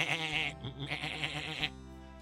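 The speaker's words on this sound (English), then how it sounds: ""Meh, meh," said the sheep." A sheep bleats in a children's story, two wavering, nasal calls in quick succession, loud and close, with nothing else heard.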